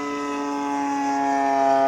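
A 35cc gas engine on a Gilmore Red Lion Racer RC plane drones steadily through a low pass, its tone holding a high, even whine that grows slightly louder toward the end, with no talking.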